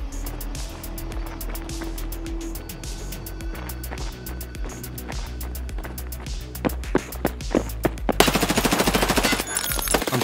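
Gunfire in Escape from Tarkov on wipe day: a long run of sharp single shots over a low rumbling background, ending in a dense, louder automatic burst.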